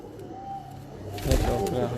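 A female pigeon coos softly on a rooftop, a low steady murmur that swells louder halfway through, with people talking at the same time.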